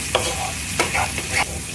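Chicken pieces frying in a pan for chicken fried rice, a steady close sizzle broken by a few sharp scraping stirs of the spatula.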